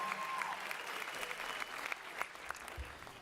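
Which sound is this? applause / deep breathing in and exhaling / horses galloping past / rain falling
applause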